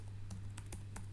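Quick keystrokes on a computer keyboard, four or five light clicks in an irregular rhythm over a steady low hum.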